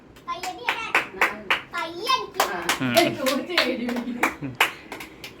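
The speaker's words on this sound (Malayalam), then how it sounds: "എല്ലാവരും കുഞ്ഞിക്ക് കൈയടി കൊടുക്കൂ" People clap for a child in a series of sharp, close hand claps, mixed in and among lively talk that includes a voice.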